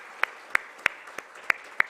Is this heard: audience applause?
yes